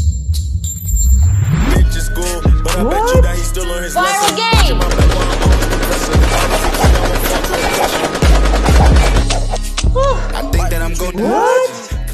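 Rapid gunfire bursts in a Loki and Deadpool video game, loud repeated automatic shots rattling over a busy, layered soundtrack with sweeping tonal effects throughout.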